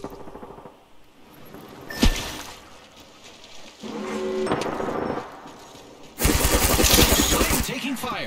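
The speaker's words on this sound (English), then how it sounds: "Start shots fired and they're hitting me" Gunfire in the video game Apex Legends comes in bursts, with a sharp shot near two seconds and a loud sustained volley toward the end, mixed with game effects and a voice talking.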